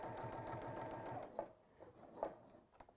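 A sewing machine runs at a quick, even rhythm for over a second, quiet and close, then slows into a few separate stitches and clicks before stopping.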